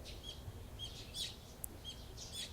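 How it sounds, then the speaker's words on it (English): Birds chirp in short repeated high tweets in a morning scene from the visual novel game Higurashi, fairly quiet over a soft background murmur, with the calls recurring at irregular intervals. "The chirping of birds served as my alarm clock."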